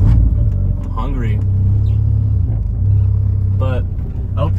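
Track car engine rumbling steadily from inside the cabin while driving, a deep continuous low drone with slight swells, with a person talking over it.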